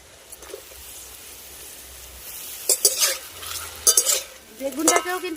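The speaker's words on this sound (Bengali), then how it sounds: "এবার আমি ভেজে নেব বেগুন তার জন্য বেগুন দিয়ে দিচ্ছি" Eggplant dropped into hot oil for tita, a quiet background sizzle that grows into louder crackling bursts of frying and stirring in the pan toward the end.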